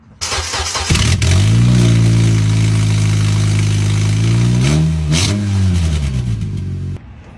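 A car engine with an exhaust leak starts and runs close up, roaring loud with a rough, raspy drone, briefly revving mid-clip before dropping back and cutting off near the end.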